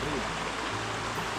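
Steady, continuous rush of river water diverted through a dam into a mill canal at Mingus Mill in the Great Smoky Mountains, a close, dense flow with no breaks.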